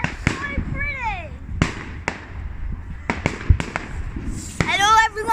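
Fireworks display bursting overhead, sharp cracks and booms with whistling rockets rising and falling between them, loud and close, while people chat and react in the background.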